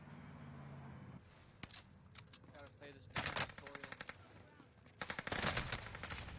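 Video game gunfire crackles in several sharp bursts and rapid shot trains, including sniper fire, fairly quiet and distant, over a low game backdrop with an occasional voice.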